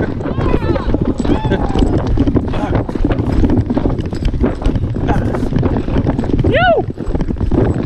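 A horse canters on a trail ride in Cardrona, New Zealand, hooves drumming steadily under heavy wind buffeting the microphone, while riders talk and one lets out a sharp whoop near the end.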